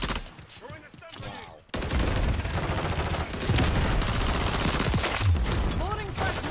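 Rapid gunfire in the video game Modern Warfare 3 multiplayer, dense loud bursts of shots that build into nearly continuous firing after a brief lull.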